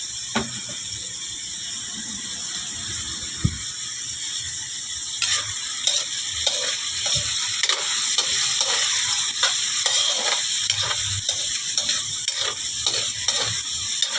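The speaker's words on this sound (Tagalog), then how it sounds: "Pinirito ko na para sarap." Kimchi rice frying in a pan, a steady hiss of sizzling oil with repeated scraping and clicking stirs of a utensil, close and continuous with no talking.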